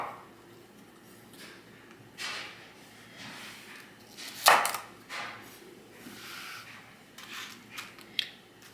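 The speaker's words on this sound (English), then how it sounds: "I'm just going to give myself a flat surface on that carrot and then just cut thin slices" A knife slices a carrot into thin slices on a cutting board, a handful of crisp chops spaced unevenly, with one sharp loud cut standing out among softer ones.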